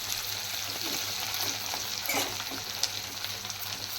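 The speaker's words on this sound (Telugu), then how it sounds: "సో ఇప్పుడు ఈ కొత్తిమీర వెల్లుల్లిపాయలు ఒక్కసారి చూడండి, ఎండుమిర్చి ఇవన్నీ చక్కగా వేగాలన్నమాట." Coriander, garlic and dried red chillies frying in a tempering for tamarind leaf dal, a constant crackling sizzle with light stirring, close up and uninterrupted by voices.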